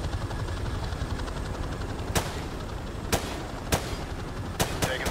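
Gunfire in the Call of Duty Modern Warfare Remastered video game during an aerial combat mission: sharp shots crack at intervals, about five distinct reports over a dense, steady rumble of engine and battle noise.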